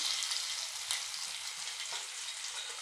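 Asafoetida and curry leaves sizzle in hot oil with mustard seeds for a fenugreek sambar tempering, a dense, continuous crackle at close range with small pops, and no voices.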